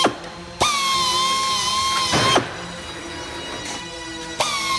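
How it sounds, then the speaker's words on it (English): A Northfield Industries door machine pre-drills hinge holes, its high-torque drill whining steadily in two long bursts, close and loud, with a third starting at the end. "you're gonna grab this one that pre-drills the holes"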